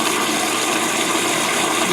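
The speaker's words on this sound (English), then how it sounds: "we still have water coming into the soap box" Water pours steadily into the soap box of a plumbing air gap, a continuous, close rushing hiss with no breaks.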